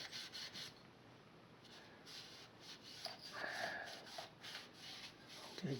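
A 1939 Motorola 52T1 radio chassis is rubbed down with Nevr Dull polish, giving a steady, close, soft scrubbing and rasping texture in irregular strokes, with no talking.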